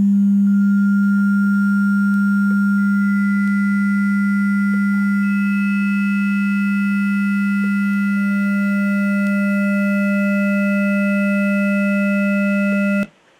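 A DIY Eurorack Tabula Rasa wavetable oscillator holds a steady, loud pure tone alone, with extra harmonic overtones switching in partway through and then cutting off abruptly at the end.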